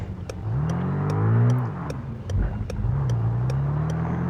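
A jeep engine in the Car Parking Multiplayer game revs twice, swelling to a strained rise and easing off before climbing again, loud and close, with sharp clicks ticking at a regular pace over the engine.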